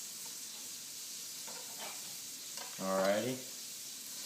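Burgers fry in a pan with a steady, close sizzling hiss that runs the whole time, and someone briefly speaks over it partway through.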